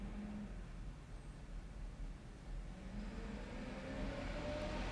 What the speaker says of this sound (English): there's a truck outside.